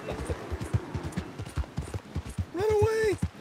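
Horse hooves in Red Dead Redemption 2 beat in a quick, even clip-clop rhythm throughout, moderately loud, with a sustained tonal cry rising briefly near the end.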